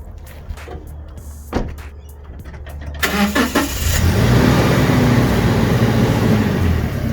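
Toyota Hilux with a freshly swapped limited-slip differential starts off and drives, a few clicks and thumps giving way after about three seconds to a steady, loud engine and road rumble with rising drone.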